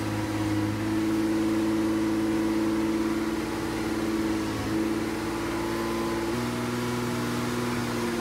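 A 2002 Acura engine runs steadily at about 2,000 RPM as a low, even hum while the steering wheel is turned again and again, with small shifts in tone along the way and no voices.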